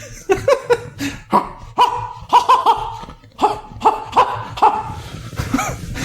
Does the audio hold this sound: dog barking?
yes